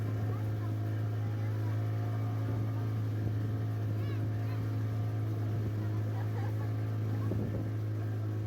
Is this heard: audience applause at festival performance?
no